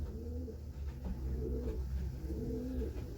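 A racing pigeon coos softly in a small loft, low rolling calls repeating steadily against a faint background hum.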